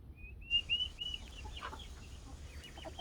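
Chickens newly settled in a chicken house give a few faint clucks and thin high chirps, with a quiet, distant farmyard hush behind them.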